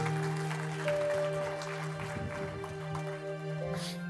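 Church audience applause welcoming a singer, moderate clapping spread through the room beneath steady tonal sound, likely instruments, with a brief swell near the start.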